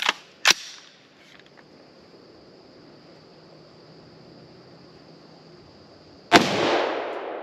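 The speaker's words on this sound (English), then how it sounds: "M193 Winchester, 55 grain full metal jacket. 2 shots." A rifle with a thin-profile barrel fires Winchester M193 55-grain full metal jacket rounds into trees: two sharp, loud cracks in quick succession open the clip, then a quiet stretch with a faint tone before another heavy report near the end.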